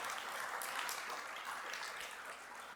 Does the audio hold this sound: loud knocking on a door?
no